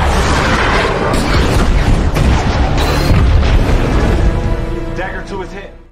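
A loud, sustained explosion from an action film about fighter pilots rumbles with heavy low boom and dense crackling debris for several seconds, then fades out near the end.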